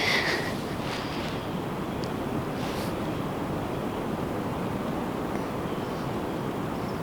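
Steady west wind at about 16 miles per hour blows around a deer stand outdoors, a continuous broad roaring rush with buffeting on the microphone, constant and fairly loud throughout with no talking.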